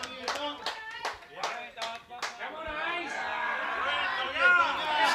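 Spectators at a Metro Premier Division lawn bowls match between Altona and MCC clap in sharp, separate bursts, then give way to a steady hum of crowd chatter and babble.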